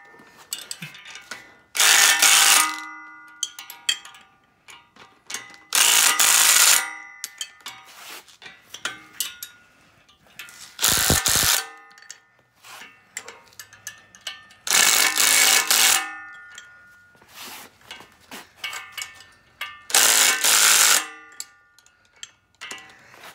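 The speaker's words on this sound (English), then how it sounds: "I'm using a 3/8 inch drive impact, so I think it's good to like 900 inch-pounds" A 3/8 inch drive impact wrench rattles loudly in repeated short bursts, about six of them, as bolts are tightened on a backhoe dolly for a John Deere 2025R, with quieter clicks and handling sounds between bursts.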